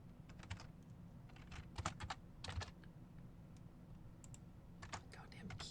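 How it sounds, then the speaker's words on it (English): Rapid clacking of a computer keyboard in irregular bursts, close to the microphone and fairly prominent over a low background hum. "Goddamn keyboard is so fucking loud."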